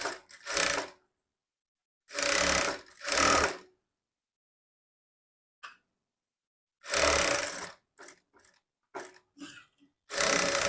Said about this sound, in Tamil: ஹூக் பட்டி வந்து 2ஆக ஃபோல்டிங் பண்ணி எட்ஜில் தையல் போட்டுக்கலாம்